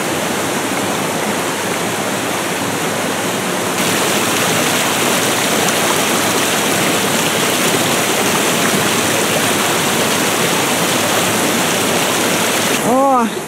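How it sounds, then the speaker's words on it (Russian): A fast mountain stream in the Verkhoyansk Range rushes loudly and continuously nearby, a full steady roar of tumbling water. "Снова спускаюсь к своему ручью"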